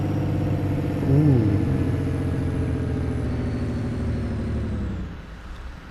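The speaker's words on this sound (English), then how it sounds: "let's hear the engine brake" A truck engine brake in a farming video game rumbles and chugs loudly, holding steady before tapering off; a man briefly reacts with a short exclamation.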